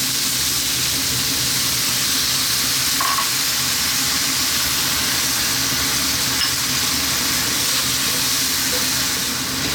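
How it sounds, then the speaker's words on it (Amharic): Chicken, vegetables, spices, water and soy sauce fry over high heat in a pan for Singapore chicken noodles, making a loud, unbroken hissing sizzle close up with faint stirring scrapes. "ቬጂቴብሉ ዶሮ ቅመሞቹ ሁሉም ለሶያ እየተጠበሱ እዚህ ጋር ደርሷል ማለት ነው"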